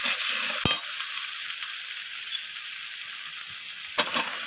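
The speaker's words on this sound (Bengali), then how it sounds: "তো টমেটোটাকে দিয়ে আমি এইভাবে একটু খুন্তি দিয়ে টমেটোটাকে বেগুনের সাথে মিশিয়ে নিচ্ছি।" A constant loud hiss of frying comes from tomato and eggplant in a pan, broken by a couple of sharp spatula knocks against the pan.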